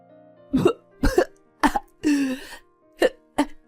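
A series of harsh coughs, six short bursts with brief pauses, close and loud, one drawn out into a strained cry.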